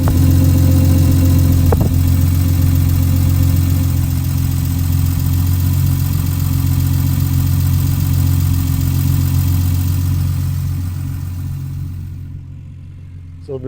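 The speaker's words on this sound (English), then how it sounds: "listen to the exhaust from a couple of different distances" A 1975 Triumph TR6 roadster with twin-exit exhaust idles steadily with a deep, droning exhaust burble and one brief knock early on, then the sound gradually fades quieter toward the end.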